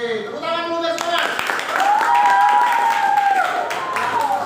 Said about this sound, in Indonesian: Oke, tepuk tangan dulu guys semua.